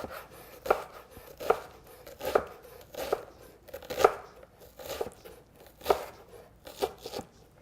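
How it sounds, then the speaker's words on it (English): A knife dices an onion on a cutting board, with about ten crisp, evenly spaced chops landing roughly every second, close and clear with no talk. "Turn the onion around, go in like that, and then cut the onion."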